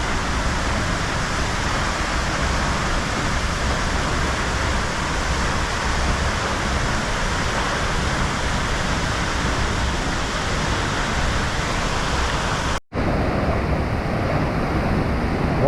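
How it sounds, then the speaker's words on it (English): The highest single-drop waterfall in England roars as a loud, continuous rush of falling water, unbroken except for a momentary dropout near the end. "the highest single drop waterfall in England"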